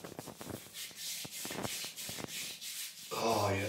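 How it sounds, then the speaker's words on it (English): Hands rubbing a product into skin before shaving with a 1963 Gillette Slim Adjustable razor, a soft close rhythmic scrubbing with short pauses, faint and alone. "I'm gonna rub that in now."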